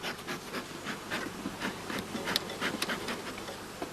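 A hive of honey bees busy at solid food of granulated blossom honey, with a steady low buzzing and faint scratchy movement throughout, close and continuous, no voices.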